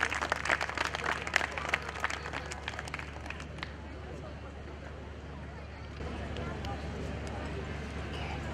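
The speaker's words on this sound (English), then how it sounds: "Big round of applause for her, our special guest for tonight." A crowd at a women entrepreneurs' awards ceremony claps steadily, loud at first and then thinning into a softer, continuous patter of applause.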